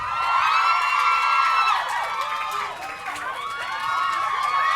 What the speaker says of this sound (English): Keep cheering and whooping and so on because it makes them feel welcome.